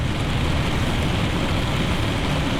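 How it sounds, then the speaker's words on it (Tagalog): Heavy rain during a storm in Pagudpod, Ilocos, a dense, steady roar of downpour that stays loud and unbroken throughout, with no voices heard. "Paparating sa atin yung malakas na ulan"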